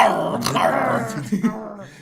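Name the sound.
person imitating a dog growling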